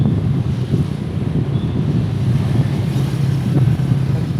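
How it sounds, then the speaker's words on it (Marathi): Ocean surf rolls in at Bhate beach on the Ratnagiri coast. It is a steady low roar, heavily buffeted by wind striking the microphone, continuous and loud with no voices. "भाटेला आलो, भाटे बीच."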